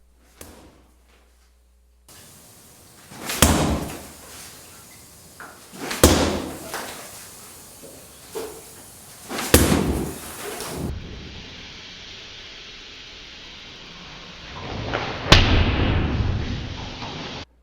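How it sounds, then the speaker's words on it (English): Rear hook punches land on a body opponent bag in several heavy, separate thuds spread a couple of seconds apart, each a sharp loud slap against a quiet room. "Here, Russ works the rear hook punch."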